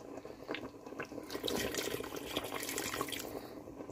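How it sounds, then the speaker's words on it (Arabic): Boiled hot water pours steadily into a cooking pot for Iraqi fesenjan with pomegranate molasses, a soft continuous splashing trickle with no talking. "هلا بضيف لهم المي السخنه المي المغليه"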